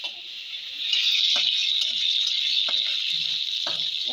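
Fennel seeds frying in a pan give a bright, steady hiss of sizzling, broken by a few scraping stirs.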